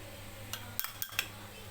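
A spoon taps and clinks against a bowl a few times while mixing coconut milk with corn flour into a batter, with light, quiet strikes spread unevenly over under two seconds.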